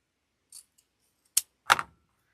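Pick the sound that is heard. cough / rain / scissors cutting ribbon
scissors cutting ribbon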